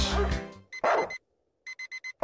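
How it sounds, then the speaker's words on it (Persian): In the Streamer Life Simulator video game, an alarm clock rings in quick electronic beep bursts, a group of three, a pause, then another rapid group of four, with a voice talking just before and after. "زنگ ساعت از کجا داره میخوره الان؟"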